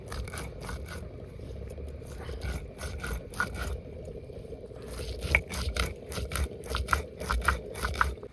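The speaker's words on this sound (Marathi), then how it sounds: "आपलं वाटाण वाटायचं चाललंय" Masala paste for egg curry ground by hand on a stone: a steady, close grinding scrape with rhythmic gritty strokes throughout and occasional louder crunches.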